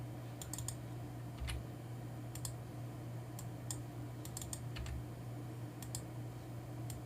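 Sparse clicks of a computer keyboard, soft isolated keystrokes and small clusters of taps over a low steady hum.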